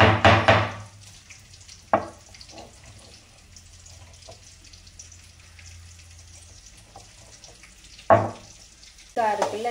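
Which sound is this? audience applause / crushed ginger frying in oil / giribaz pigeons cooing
crushed ginger frying in oil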